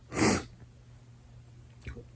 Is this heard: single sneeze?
yes